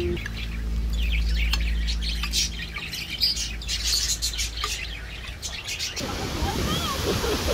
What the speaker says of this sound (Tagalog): naririnig natin yung mga boses ng ibon